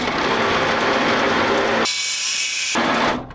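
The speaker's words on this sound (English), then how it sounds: "And the first stainless steel bolt going in." A stainless steel bolt is tightened with a ratchet while rebuilding the frame of a 20-year-old Land Rover, giving a loud, continuous metallic whirring and clicking that briefly changes pitch before stopping.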